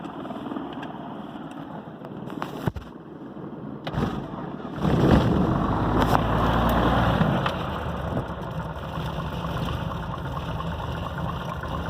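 Piper PA32 aircraft engine cranked and started: an uneven stretch of clicks and cranking settles into a louder sustained engine rumble midway, then holds at a steady, slightly lower drone.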